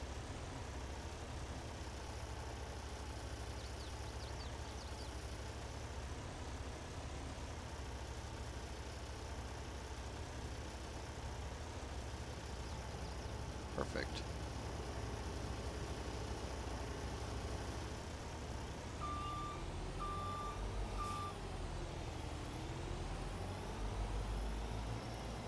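A skid steer in Farming Simulator 22 drones with a steady, loud engine throughout, and a short run of high reversing beeps sounds near the end.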